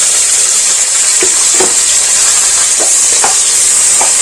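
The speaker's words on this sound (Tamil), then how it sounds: "வெங்காயம் வந்து நல்லா வதங்கணும்." Chopped onions and a green chilli fry in hot oil in a pan while being stirred, giving a steady, loud sizzle with occasional soft scrapes of the spoon throughout.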